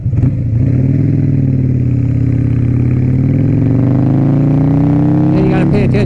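Harley-Davidson Sportster 1200 engine running while riding, a loud, steady low rumble with a slowly rising pitch as it accelerates, with a brief clatter near the end.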